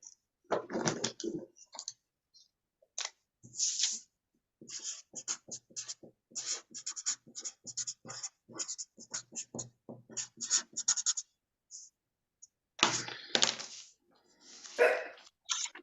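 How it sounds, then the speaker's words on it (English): A pen scratches on paper as a website address is handwritten in large letters for a snowman ornament craft class, with many short close scratchy strokes in bursts separated by brief pauses. "Let me write down here. I'll write it big so you can see it."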